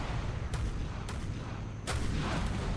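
Naval turret guns fire in the game ShipCrafter: three or four heavy, booming blasts about half a second apart, loud and close over a constant low rumble, with no talking.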